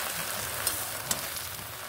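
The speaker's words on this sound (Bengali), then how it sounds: "এইভাবে আমি এগুলোকে ঢেকে ঢেকে ভাজব।" Bottle gourd leaves fry in a pan with salt and turmeric, giving a steady soft sizzle with two brief clicks of a utensil, no voices.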